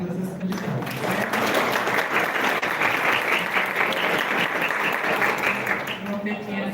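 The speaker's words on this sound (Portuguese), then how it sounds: "vocês podem aplaudir todas as candidatas" Audience at a debate between candidates for campus director general claps for all the candidates, sustained dense applause with voices mixed in underneath, swelling and then easing toward the end.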